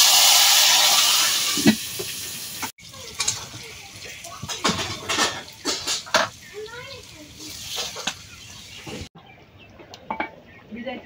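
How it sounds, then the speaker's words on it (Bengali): Tempering for a vegetarian bottle gourd and tamarind sour curry hisses and sizzles in a hot pan, with a loud steamy burst at the start, then clinks of utensils and stirring as speech runs over it. "নিরামিষ বাগার দিতেছি।"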